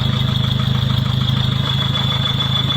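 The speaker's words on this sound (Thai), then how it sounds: "เสียงมอพักผม" Steady idling motorcycle engine rumble through an exhaust muffler, constant low throb and a thin high whine on top, no talk, loud and close throughout.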